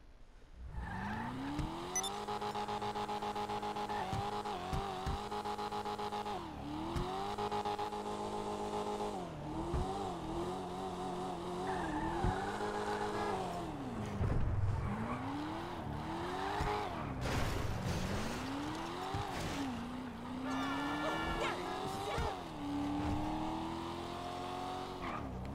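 A video game car engine revs repeatedly through gear shifts, pitch climbing and dropping in cycles, with tires squealing in a drift near the end.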